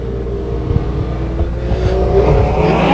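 Race cars at a speedway accelerating for a heat race start, a broad engine roar rising in pitch and swelling louder toward the end, continuous and fairly close, no voices.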